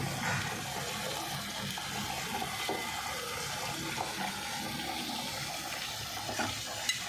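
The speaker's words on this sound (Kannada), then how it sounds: "ಅದು ಸ್ವಲ್ಪ ಮುದ್ದತ್ವ ಬರೋವರೆಗೂ ಹುರಿಯಿರಿ" Greens and ground paste being fried and stirred in a tempering pan on a stove for Ballari-style palya, a steady close hiss and watery sizzle with faint scraping, continuous and even throughout with no talk.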